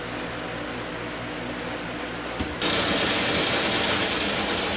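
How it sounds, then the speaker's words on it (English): Metal lathe facing off the end of a workpiece: a steady mechanical whir with fine ratcheting texture, which jumps to a louder, brighter broadband cutting hiss partway through and holds close and even to the end. "I'm just facing this off, and then I'm going to put a center in it"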